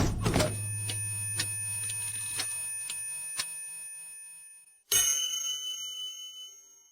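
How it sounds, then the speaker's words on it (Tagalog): A bell strikes repeatedly in a steady rhythm, each ring leaving a long resonant hum, then fades before a second bright, ringing strike swells and decays. "narinig niyo ba ang tunog ng kampana?"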